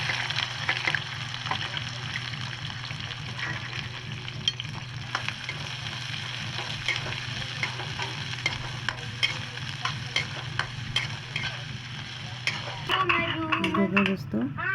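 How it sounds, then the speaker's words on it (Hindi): Onion and chili frying in hot oil give a steady, close sizzle, with occasional stirring scrapes and a burst of sharper crackling near the end; someone talks over it at times. "देखिए प्याज मिर्चा है डालकर मैं तलूँगी"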